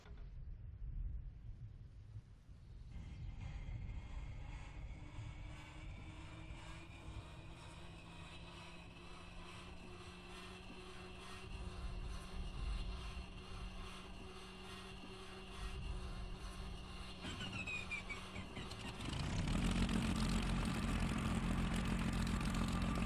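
A Bf 109 G-6 engine in a flight simulator game starts up: a low whir and cough, then a steady droning idle that holds for many seconds before swelling into a louder, rougher roar near the end.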